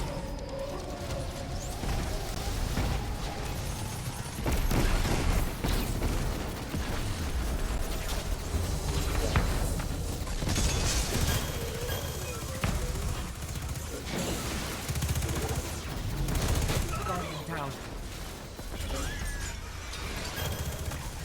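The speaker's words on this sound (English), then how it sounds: "That's a raid machine gun." Raid machine gun fire in Destiny 2 during the Menagerie, dense bursts of rapid shots mixed with explosions and mechanical clatter, loud and sustained through a chaotic firefight.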